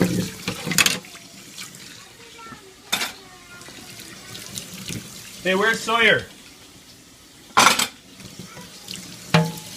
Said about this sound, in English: People gonna rinse off dishes or what?